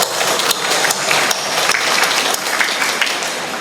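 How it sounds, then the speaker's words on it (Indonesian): An audience at a Mass breaks into steady, dense applause, many hands clapping together loudly and continuously with little talk. "Sekali lagi kita beri tepuk tangannya"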